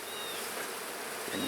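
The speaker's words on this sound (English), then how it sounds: "Good cluster of bees over here." Honey bees buzzing in a dense, steady drone around an opened hive during a hive inspection, close and continuous with no talk.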